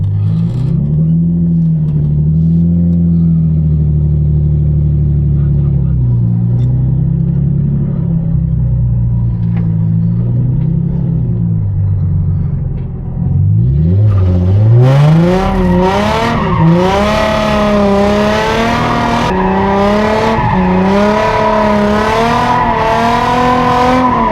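A car drifts in the desert, its engine droning loud and close with rising and falling revs, then surging sharply to a harsh, high-revving roar mixed with tire noise for the second half.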